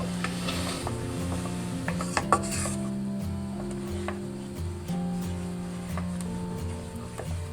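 Egg paste for egg halwa is stirred by hand in a pot, giving soft scraping and a few light clinks over a steady tonal hum in the background.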